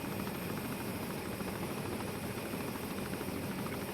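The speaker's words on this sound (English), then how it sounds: "Behind us are the helicopters of the 1st Aerosol, a part of NATO's Rapid Reaction Force and brand new unit." Military helicopters of a NATO rapid reaction air assault unit, heard as a steady, dense rotor and engine roar from a distance, unbroken for several seconds with no speech.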